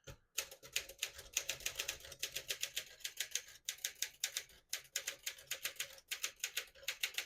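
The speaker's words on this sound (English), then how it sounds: "Beautiful typing machine." Brisk typing on a 1957 Smith-Corona Silent-Super portable typewriter: fast, steady runs of close, crisp key strikes broken by short pauses, with no voices.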